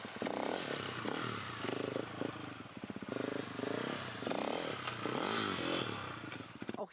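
An enduro motorcycle climbs over slippery logs, its engine roaring loud and close throughout with rising and falling revs, sputtering bursts and rattling clatter.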